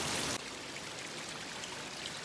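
A small waterfall formed by rain flows steadily nearby, a continuous rushing, splashing wash of water with no voices.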